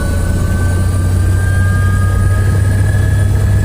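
Close, loud helicopter engine and rotor noise as the aircraft prepares to lift off in a remote Nepalese village on the way to Lukla, a steady unbroken roar with no speech.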